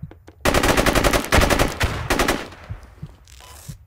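Gunfire in Squad, the tactical military shooter: a couple of sharp single shots, then loud rapid machine-gun bursts in quick succession, fading into scattered distant pops and echoes.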